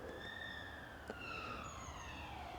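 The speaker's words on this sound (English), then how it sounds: "There's a police siren." A police car siren wails with a steady rising and falling tone as the vehicle passes, moderately distant and alone against a low background hum.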